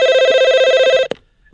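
A telephone on a call-in prayer line rings loudly and close, a rapid warbling electronic trill held for about a second before it cuts off with a click, then near silence.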